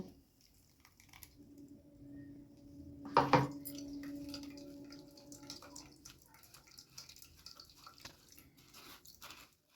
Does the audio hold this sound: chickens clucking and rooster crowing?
no